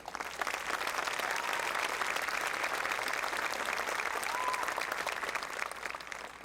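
Crowd applause fills a 2019 Mercer County College commencement ceremony, a steady wash of many hands clapping at moderate distance, even and sustained throughout with no speech over it.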